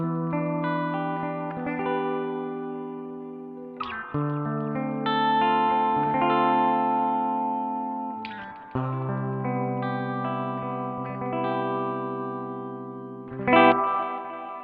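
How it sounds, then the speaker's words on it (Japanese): A BOSS RE-2 Space Echo pedal run through a tube preamp with every knob at noon, giving sustained harmonic instrument chords washed in deep spring reverb and tape-echo delay, with repeats smearing across each change and a brighter attack near the end. "結構ね、強めのスプリングリバーブと、ディレイですね。テープエコーのディレイの感じがですね、しっかり聞こえるかなっていう印象の音です。"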